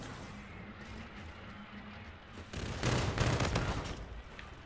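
A new weapon in Halo Infinite fires rapid bursts, a dense rattle of gunshots that swells loud around the middle and continues, over a low game background rumble with no voice on top.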